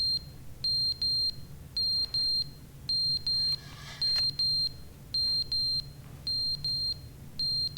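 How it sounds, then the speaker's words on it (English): Repeated electronic alarm beeping from The Stanley Parable Ultra Deluxe video game, sounding in short evenly spaced bursts of rapid high-pitched beeps, loud and steady over a low background hum. "I wonder what that means, the alarm."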